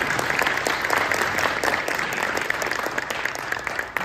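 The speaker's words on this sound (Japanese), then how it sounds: "大きな拍手をお願いいたします" Sustained applause from a large audience at a Japanese seminar, steady and dense clapping filling the whole stretch without pause.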